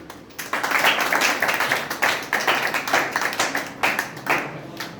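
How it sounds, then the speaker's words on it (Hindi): Audience clapping in honour of the guru at a Guru Purnima talk, a burst of hand claps rising quickly and continuing in uneven waves for several seconds before tapering off. "तो गुरु के नाम पर हम लोग ताली बजा देंगे।"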